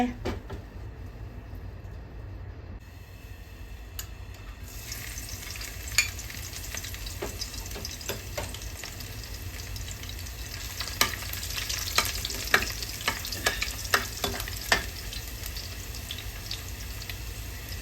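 Spinach being stir-fried in oil in a home kitchen, a steady hiss of sizzling broken by sharp crackles and scraping stirring strokes, close and bright, with no one talking.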